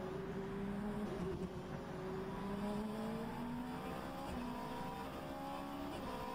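A hypercar mod in the rFactor 2 racing simulation drones under acceleration, its engine note climbing through repeated gear changes, a steady mechanical whine played back fairly quietly with no talk over it.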